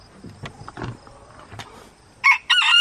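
Low clucking and rustling from hens close by, then a rooster crows loudly at the end, cutting through the quieter flock.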